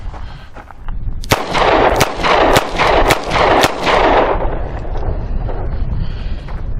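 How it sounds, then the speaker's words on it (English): A Charter Arms Bulldog .44 Special revolver fires five quick double-action shots outdoors, each a loud sharp crack about half a second apart, with a booming tail that rings out after the last round. "I'm going to fire 5 rounds kind of quick and see what happens."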